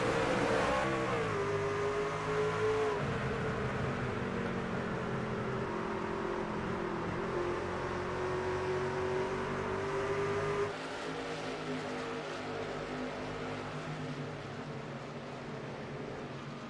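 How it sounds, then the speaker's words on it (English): Race trucks at Richmond Raceway roar loudly as they accelerate off a restart, a dense layered engine drone with rising pitch that holds steady before easing slightly. "waiting for that signal for these trucks to turn loose, and we're racing again from Richmond."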